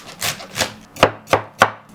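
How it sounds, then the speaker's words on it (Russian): Heavy knife chopping vegetable tops on a cutting board, two soft strokes and then three sharp, evenly spaced thuds close by, with no voice. "И сейчас нарезаем ботву."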